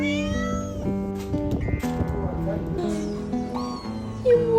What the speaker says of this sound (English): there's a chill cat lounging around.